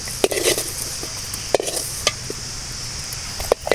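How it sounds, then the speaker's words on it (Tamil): Dried red chillies frying in a little oil for a brinjal kuzhambu, with a steady hiss of sizzling and occasional clinks and scrapes of a stirring spoon, close up and with no talking. "இப்போ கொஞ்சமாக எண்ணெய் ஊற்றிக்கலாம் மிளகாத்தல் போட்டு வறுத்துக்குவோம்"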